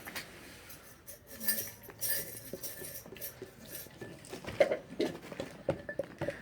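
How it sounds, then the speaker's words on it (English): Slime being stirred with lotion in a bowl, giving soft, irregular wet clicks and light taps that come close and fairly quiet, growing busier toward the end with no talking. "you stir it up"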